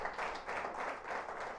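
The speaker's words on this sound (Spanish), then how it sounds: "Dar un aplauso al Rey." A church congregation claps during a sermon, a moderate rhythmic wash of many hands pulsing in even beats, somewhat distant.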